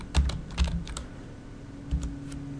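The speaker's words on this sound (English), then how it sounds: "If I type weekend here" Keys tapped on a computer keyboard in a few short clusters of clicks, close and fairly quiet, with a pause between bursts and no talking.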